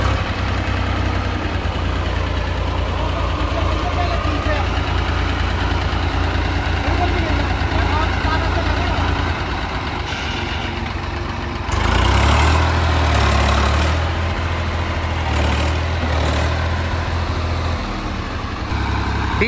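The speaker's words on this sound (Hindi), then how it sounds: "डीजल तो है ना, फरफरा रहा है" An old Swaraj 735 FE diesel tractor engine chugs steadily at idle, loud and close, with a brief rev in the middle before settling back to its rough rumble.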